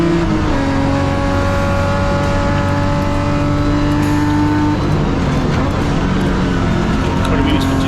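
Race cars from a big field lap the track in a BMW M Performance Parts Class D race, engines droning steadily with sustained pitch sweeps as cars pass and rev, under continuous commentary.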